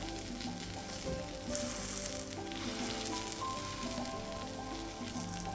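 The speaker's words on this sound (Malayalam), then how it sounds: "ഇതൊന്ന് ഇങ്ങനെ പ്രസ് ചെയ്തിട്ട് അപ്പുറത്തെ സൈഡും ഒരു 2 മിനിറ്റ് നേരം ഒന്ന് മൊരിച്ചെടുക്കാം" Oats omelette frying in a pan as its second side crisps, a steady close sizzle with occasional soft pressing sounds, no voices.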